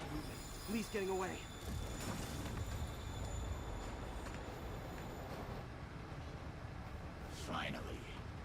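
Train in the Spider-Man video game rumbles along with a steady low mechanical rattle and clatter, with a few faint voices and game sounds over it.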